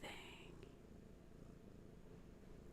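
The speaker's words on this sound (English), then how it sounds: "The power of these two kitties laying on me purring is intense." Two cats lie on a person and purr together, a faint, steady low rumble that continues without break.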